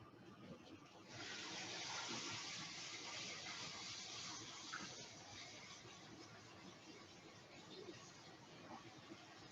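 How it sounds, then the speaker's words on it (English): A kitchen cold-water tap runs steadily to rinse out a bowl, with a continuous close rushing splash that starts about a second in and continues without a break, while faint background noise sits underneath. "I'm going to take this over to my sink to rinse it off under the cold tap."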